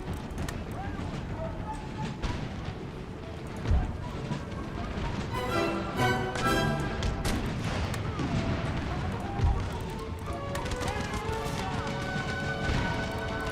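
Cannon and artillery fire in the Empire: Total War battle game, heavy booming crashes at irregular intervals amid a busy battlefield din of clattering and rumbling, with spoken commentary running over it.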